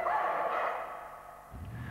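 A misbehaving dog at a rural English dog-training compound gives a brief yelping bark followed by lower whimpering sounds, close and moderately loud, without any talking.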